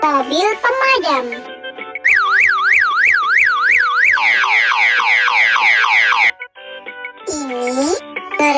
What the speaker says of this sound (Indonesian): Mobil pemadam.